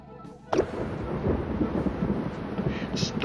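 Thunder cracks and rumbles from a lightning demonstration in the children's show Deaf Planet, a sudden loud burst that settles into a continuous rolling roar with rain-like hiss.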